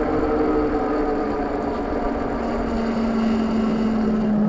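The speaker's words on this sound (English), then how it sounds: "I'm going to put this 500 watt motor to a pretty significant test." A Surface604 Boar Explorer electric fat bike climbs a hill under its 500 W rear hub motor, giving a steady, close mechanical whir and hum with some vibration, unbroken and with no voices.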